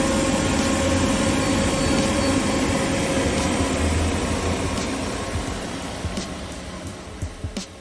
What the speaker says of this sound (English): we're going to start our recovery machine